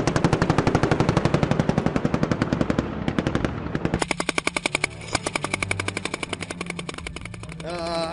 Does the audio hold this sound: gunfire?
yes